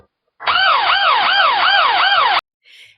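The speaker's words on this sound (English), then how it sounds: "It has a built-in siren to scare off those audacious porch pirates." A built-in siren on a home security camera sounds a loud, close electronic wail for about two seconds, sweeping up and down in rapid regular cycles before cutting off abruptly into silence.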